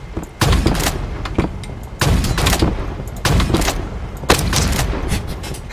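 Rapid gunfire bursts in a video game shooter, five loud clustered volleys of shots at roughly one-second intervals, close and punchy with brief gaps between.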